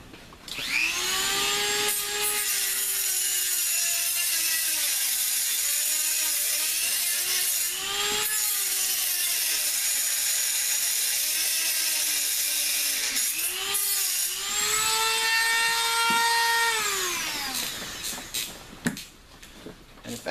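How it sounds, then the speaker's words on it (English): A Dremel rotary tool cuts a slot into a stripped screw head on a Dominator exhaust, a steady loud high whine that rises and falls in pitch as the bit loads and frees, dropping away at the end. "I'm gonna take a Dremel tool. I'm gonna cut me a slot so I can get a screwdriver on it."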